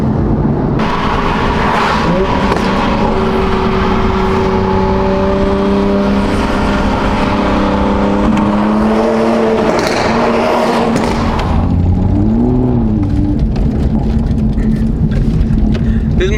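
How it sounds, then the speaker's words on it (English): A turbocharged Toyota Supra engine pulls hard while driving, its droning, rising tones building boost for most of the stretch before easing off, with a voice talking over it. "I'm never gonna not build boost in this car because I love hearing that sound."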